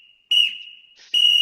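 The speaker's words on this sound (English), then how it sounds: "Wow, the old double whistle." A referee at a football game blows two sharp, loud whistle blasts, each shrill and steady, separated by a short gap of fainter tone.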